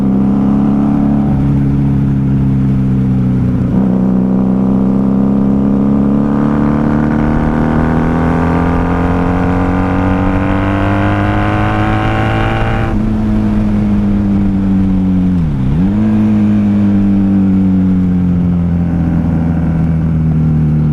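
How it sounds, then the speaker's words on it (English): A 1994 Honda Magna VF750C motorcycle engine revs hard while riding, its loud, steady drone climbing and falling in pitch through the gears, with one sharp dip and recovery near the end, close and continuous throughout. "This bike might not be my loudest, but it definitely gives you a headache after a while."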